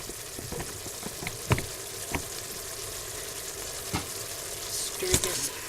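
Beef being stirred while it sizzles in an Instant Pot, a steady frying hiss punctuated by several sharp utensil clicks and scrapes, close and moderately quiet.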